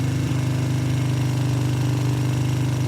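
A quad bike engine idling high, a steady fast mechanical chug with a rhythmic pulsing drone, close and alone.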